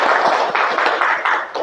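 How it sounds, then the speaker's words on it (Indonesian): A classroom of biology students clapping for a classmate, a short burst of close, fairly loud hand claps with a loose rhythmic pulse. "Beri tepuk tangan untuk Devi."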